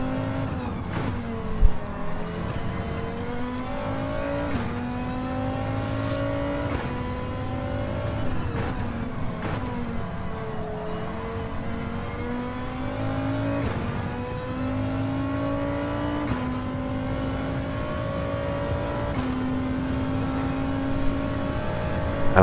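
Race cars lap the Brands Hatch circuit, engines rising and falling as they pass one after another in a steady rhythm, with gear changes and fading whines between passes over a constant background roar.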